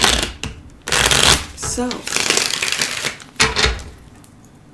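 A deck of tarot cards is shuffled close up in brisk, riffling bursts that run almost continuously, with a brief spoken word near the start.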